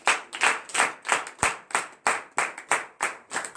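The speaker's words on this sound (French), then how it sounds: "Donnez l'acclamation à Jésus." A church congregation claps together in a steady, evenly spaced rhythm, about three claps per second, close and loud with no talking over it.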